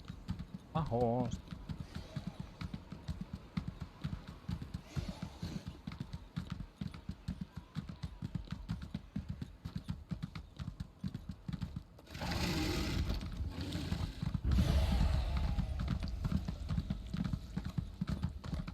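Rapid, steady hoofbeats of a horse in Elder Scrolls Online clip-clop continuously with other sounds layered over them, growing louder and denser for a few seconds near the end.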